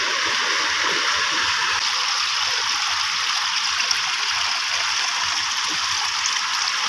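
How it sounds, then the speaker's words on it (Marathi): Steady, full rush of flowing floodwater with whirlpools, a continuous broadband roar with no pauses, close and loud throughout. "पुढच्या साईडने पण पाणी जातं ह्या साईडने"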